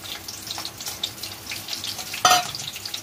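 Green chilies and a small onion frying in hot oil for a potato fry, giving a steady close crackling sizzle with a brief louder burst near the end.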